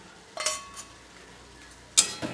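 Fried potato and pumpkin pieces tipped into a pan of cooked spice mix, heard as two sharp metallic clanks of a utensil against the pan over a faint background hum, with no talking.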